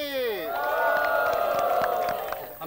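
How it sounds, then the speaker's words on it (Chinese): An audience at a Chinese talk show breaks into cheering and shouting, a crowd roar swelling and holding with scattered claps and whoops, loud and close for the whole stretch. "大家掌声鼓励。"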